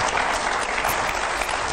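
A brief, dense burst of audience applause at a televised interview event, loud and continuous with no gaps.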